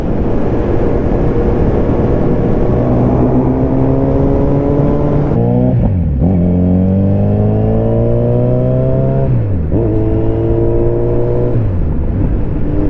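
Motorcycle engine with a twitchy throttle on cold tires, revving and shifting through the gears while riding, a steady loud drone rising in pitch and dropping at each gear change, with no talk.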